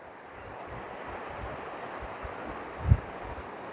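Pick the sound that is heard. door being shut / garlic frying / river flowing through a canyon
river flowing through a canyon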